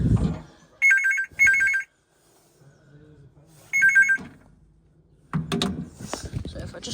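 An old AA telephone bell at Avoncroft Museum rings in two bursts of double trills, then falls silent amid faint handling noise and brief talk before a clattering handset pickup.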